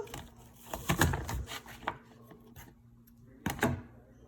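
Taro leaf stalks chopped with a knife on a cutting board, a quick series of sharp close knocks followed by a pause and a second short burst of cuts, with no voice over them.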